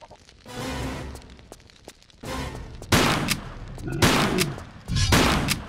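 Several loud gunshots in bursts ring out in the video game Tomb Raider 3, sharp reports with brief gaps between them.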